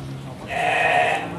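A female Garut sheep gives one wavering bleat at a livestock market in Majalaya, Bandung, close and fairly loud over a busy, murmuring background.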